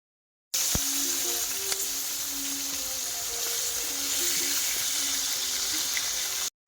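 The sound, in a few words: fish frying in oil on a leaf-fired clay stove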